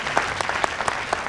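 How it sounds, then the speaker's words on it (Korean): Audience at a political party youth talk concert in a hall gives a brief round of steady applause, a dense patter of many hands clapping at moderate volume. "그분들께 특별히 위로 박수 한번 쳐주세요."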